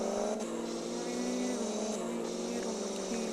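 A car driving in a video game, its engine humming at a steady pitch with small rises and shifts, moderately loud and heard alone.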